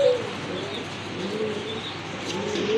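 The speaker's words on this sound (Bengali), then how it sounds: "এখানে কিন্তু এক জোড়া রেসার কবুতর আছে" A pair of racing pigeons on a pigeon farm coo softly and continuously at close range, with a few faint chirps mixed in.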